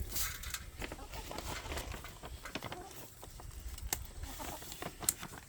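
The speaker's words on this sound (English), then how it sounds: "Now Cat, our rooster over here, the ones you hear in all our videos" Backyard hens cluck softly and peck around while being hand-fed treats, with scattered scratching and pattering sounds close by and a rooster nearby.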